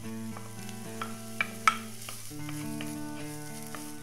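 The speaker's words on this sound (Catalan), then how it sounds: "Amb una mica d'oli comencem a sofregir la ceba." Onion sautés in a little oil for Milanese-style rice, a soft, steady sizzle beneath background music, with a few light clinks along the way.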